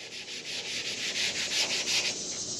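Steady back-and-forth rubbing of a hand or pad over the rough, sanded aluminum surface of a semi truck tank, a close, hissy scraping in rhythmic strokes.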